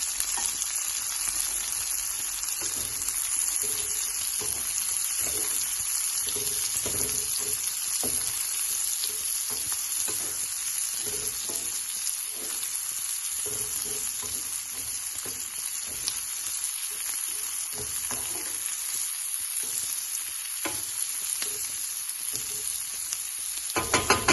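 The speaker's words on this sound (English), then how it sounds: "we're gonna cook that until the onion yellows a little bit. It's a little bit soft and glistening." Chopped onion frying in a pan for SPAM fried rice gives a steady, dense sizzle with constant crackle that runs unbroken for the whole stretch, close and even in loudness, with no voices.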